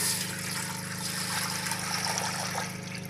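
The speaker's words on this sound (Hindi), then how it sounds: "अब हम इसमें पानी ऐड करेंगे।" Water is poured from a jug into a cooking pot for Lucknowi chicken biryani, a steady close trickle and splash running evenly throughout with no talking.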